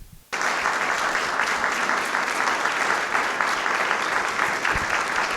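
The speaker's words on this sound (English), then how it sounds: "Members of the Southern community who served stood as the audience applauded" An audience in a student center ballroom applauds veterans at a Veterans Day celebration, steady full clapping starting abruptly after a brief quiet moment and continuing throughout.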